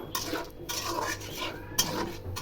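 Ground greens paste being stirred in a large metal wok, a spatula scraping and clanking against the pan in irregular strokes, close but fairly quiet, with no voices.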